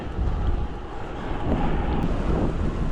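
Heavy wind buffeting the microphone while cycling into a headwind on a long road route around Poznań, Poland; a continuous low roaring rumble with gusty swells, loud and unbroken.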